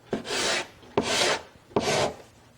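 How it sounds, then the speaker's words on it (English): A blade pares a hard coating off the wooden surface of a kayak in three even strokes, each one a close, rasping scrape that starts with a small catch and stops cleanly. "The only way you can get it off is to start cutting below the surface of the wood, so you're coming in underneath the hard stuff"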